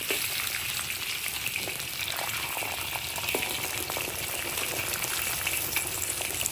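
Sour fish goes into hot chili-infused oil in a pan, giving a continuous, moderately loud sizzle and crackle with no talking.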